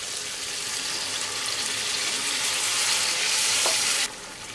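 Pointed gourd frying over a medium flame in a pan, a steady bright sizzle that swells louder as a little water hits the hot pan, with a faint clink, no voices, then a sudden drop at the end.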